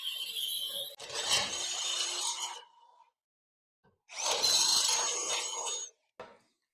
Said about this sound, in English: drill a hole for the wires to run through.